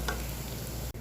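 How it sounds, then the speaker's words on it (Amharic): Onions frying in a pan give a steady close sizzle through the short stretch, then cut out briefly near the end. "እዚህ ጋር ሜቱሉ እንደዚህ እየተጠበሰልኝ ነው ማለት ነው።"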